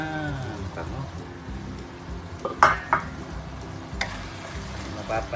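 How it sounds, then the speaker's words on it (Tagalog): Ground beef simmers in a pan with a steady low bubbling hiss. A couple of sharp clinks of a utensil against the pan cut in near the middle and end, and speech is heard faintly. "Simmer po muna natin ng 5 minutes para maluto lang ang ating giniling."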